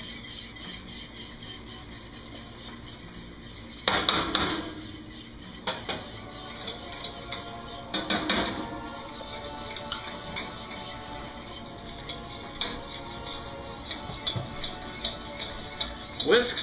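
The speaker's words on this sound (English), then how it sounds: "whisk into it the flour and the cornstarch slowly" A whisk works flour and cornstarch into melted butter over low heat for a blonde roux, with soft scraping and occasional sharper clinks against the pan, close and fairly quiet with speech in between.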